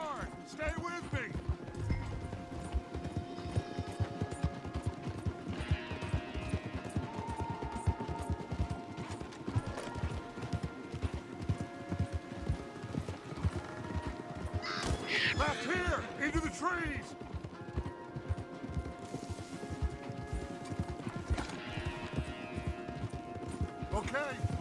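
Horses galloping hard with steady clip-clopping hooves during a chase in Red Dead Redemption 2, with music and voices shouting over the hoofbeats throughout.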